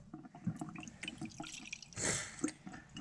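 Water runs from a reverse osmosis faucet in a steady, soft splashing stream with dripping detail, rising briefly louder partway through, close by with no talk.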